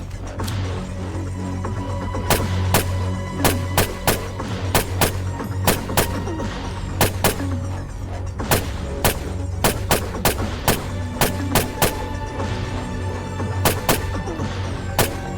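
Rapid gunfire in the zombie survival video game State of Decay, many sharp shots in irregular bursts and single cracks over a steady low rumbling game ambience, loud and close.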